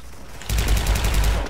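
A rapid burst of automatic rifle fire from a FAMAS in the online shooter Special Force rattles out loud and close after a brief quiet lead-in, with evenly spaced rounds running to the end.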